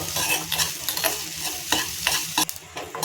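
Onions and garlic sautéing in a pan for sambar, a continuous close sizzle punctuated by repeated spatula stirring scrapes, with no talking.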